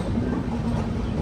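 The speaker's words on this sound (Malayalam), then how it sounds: "എട്ട് 50 ട്രെയിൻ എങ്ങനെ ഗോർദ റോഡ് സ്റ്റേഷനിലേക്ക് ഇതാ എത്തിക്കൊണ്ടിരിക്കുകയാണ്" A train pulling into Khurda Road station in Odisha, a steady low rumble of rolling stock with no distinct events over a brief stretch.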